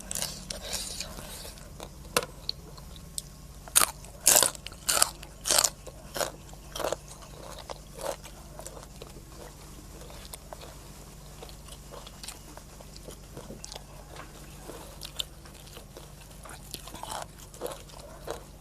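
Crisp bites and crunchy chewing of mushrooms in a Thai mushroom curry, a series of sharp close-up crunches clustered early then spaced out, with soft murmured speech in between.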